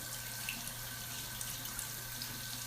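Steady running water from a bathroom sink tap as a makeup brush is rinsed, a continuous close hiss with faint splashes and a low hum underneath.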